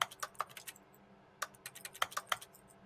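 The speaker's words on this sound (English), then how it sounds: "Every time I click the button on my mouse, it sounds like I'm clicking the keyboard" Rapid keyboard-like clicking in The Stanley Parable comes in two quick bursts of light clacks separated by a short pause. It is close and fairly quiet, with no voice over it.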